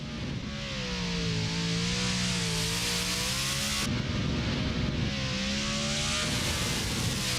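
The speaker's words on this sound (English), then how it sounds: "Car sounds absolutely mental out there" Custom Nissan S13 drift car engine revving hard on a track, a loud, rising and falling snarl that climbs in pitch, drops sharply midway, then climbs again.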